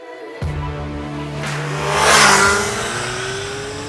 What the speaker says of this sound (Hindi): इनमें से आने वाला इनलाइन 4 एग्जॉस्ट नोट भी काफी बेसी साउंड करता है